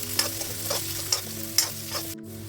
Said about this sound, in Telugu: సో చిటికెడు ఉప్పు యాడ్ చేసుకొని మళ్ళీ ఫ్రై చేసుకోండి.